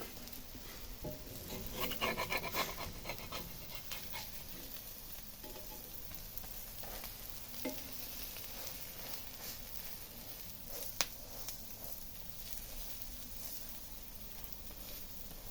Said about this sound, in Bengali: এটা আমরা হলো তাওয়ার ভিতরে ভাজতেছি।